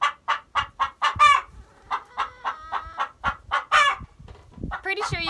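A hen interrupted while laying eggs clucks loudly and insistently in quick repeated bursts, with a couple of sharper squawks rising out of the rhythm, close to the microphone.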